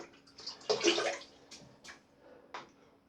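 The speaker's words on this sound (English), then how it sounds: "So I'm going to wet my brush." Water splashes onto a shaving brush being wetted before a slant razor shave, coming as a few short splashing bursts close by, with the loudest splash early and brief drips and trickles after it.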